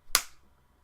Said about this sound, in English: Wait, I need a better clap.